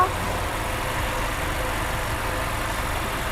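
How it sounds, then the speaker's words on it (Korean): The engine of an Infiniti QX30 2.0 AWD idles steadily and evenly nearby, a continuous low rumble with no changes in pace and no voices. "엔진 소리도 일정합니다"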